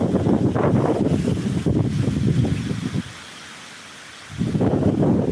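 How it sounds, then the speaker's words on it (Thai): Powerful wind sweeping over open Thai farmland, loud rumbling gusts hitting the microphone, fading to a short lull and then roaring back. "ลมแรงมากๆ"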